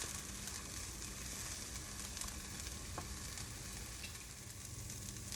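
Vegetables sweating in a pan with a sprinkle of salt give a steady, gentle sizzle that stays even throughout, with a faint crackle now and then and no voices.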